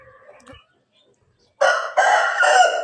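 Rooster crowing loudly and close in a village setting, one long crow in several strained segments following a near-silent stretch with faint clucks.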